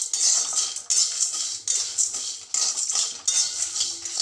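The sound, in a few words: dry roasting spices and chillies in a pan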